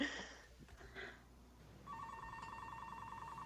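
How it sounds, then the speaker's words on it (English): A telephone rings indoors in a room where a podcast is being recorded. A brief burst of ringing is followed after a pause by a steady, repeating electronic ring that sounds moderately close. "I can't turn the phone off from down here."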